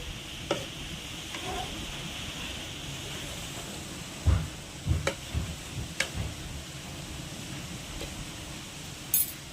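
A sugar and milk mixture is stirred as it heats in a pan, making a soft bubbling sizzle with several sharp spoon clinks and knocks against the pan.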